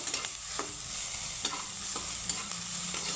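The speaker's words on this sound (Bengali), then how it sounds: "এখানে আমার বেগুনটাকেও আমি সুন্দর করে ভেজে নিয়েছি দেখো ভাজা হয়ে গেছে" Eggplant frying in a pan makes a constant loud sizzling hiss, with soft, regular spatula strokes turning the pieces.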